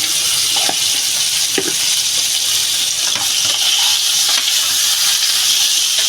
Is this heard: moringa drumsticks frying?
yes